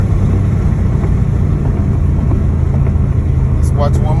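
An Audi car drives with a steady engine hum as it shifts gears, the drone continuous and fairly loud, with a voice speaking briefly over it near the end.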